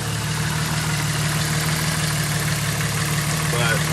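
A Jeep Cherokee engine idles steadily after an injector swap, a continuous close low rumble with an even, smooth tone and no audible misfire throughout.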